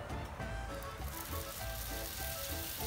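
Red sauce and a tortilla sizzling in hot oil in a pan, a steady close crackle of frying with no talking.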